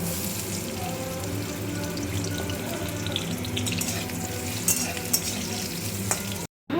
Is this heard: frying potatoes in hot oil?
yes